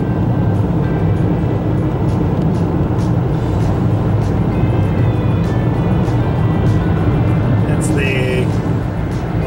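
A vehicle drives through a road tunnel, a loud steady engine and road roar echoing continuously, with brief faint tones near the end.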